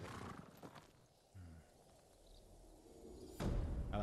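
A horse in the video game Ghost of Tsushima gives short hoof thumps and a brief snort or whinny, fairly faint, within quiet game ambience with a louder burst at the end.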